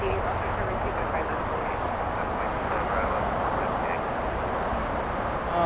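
A Boeing KC-135 jet flies overhead near Los Angeles International Airport, a broad, steady roar of engine noise that stays even and fairly distant throughout.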